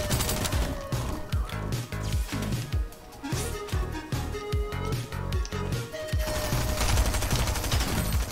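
Rapid gunfire in the Fortnite video game, dense repeated bursts of shots in quick rhythm with short pauses, loud and continuous over game background noise.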